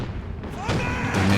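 Grenade blasts in a competitive online war video game, several heavy booming explosions in quick succession with a rising rumble, loud and close, alongside other game sounds.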